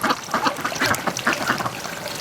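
Domestic ducks quacking loudly and close by in a rapid, overlapping chorus of harsh calls, with a rainy outdoor pen setting.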